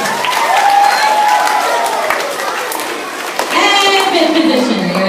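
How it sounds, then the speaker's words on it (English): Applause from a group during a dance-style movement class, a dense wash of clapping and crowd noise mixed with voices and children talking over it. "I think that deserves some applause"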